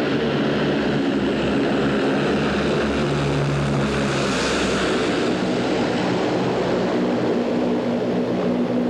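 Military C-130 propeller transport aircraft landing on a runway, a loud, steady droning roar of turboprop engines with a swelling whine midway, close and dominant throughout.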